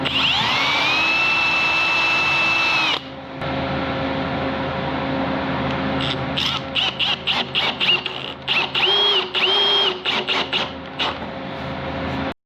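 A power drill bores pilot holes in wood for 1.5-inch pan head screws while building a wood and metal desk. It whines steadily and close for about three seconds, then breaks into a run of short, choppy bursts.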